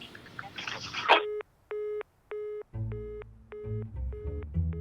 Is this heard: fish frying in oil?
no